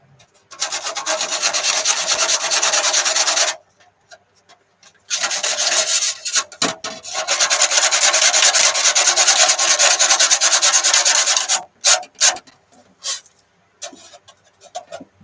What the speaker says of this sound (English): Deployed sanding stick.